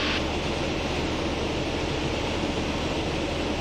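Small airplane engine droning steadily during a landing approach with full flaps, a loud, constant cabin roar filling the whole stretch without breaks.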